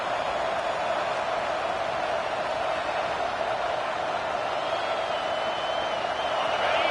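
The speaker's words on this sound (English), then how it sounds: "Listen to the crowd energy here in the early going" A college football stadium crowd roars steadily, a dense, continuous wash of massed voices that holds at an even level throughout and swells slightly near the end.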